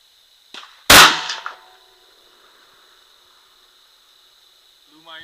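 A single loud, sharp Tikka T3 Battue rifle shot with a 20-inch barrel cracks close by, preceded by a smaller click and trailing off in a brief echo, with a steady high whine lingering throughout.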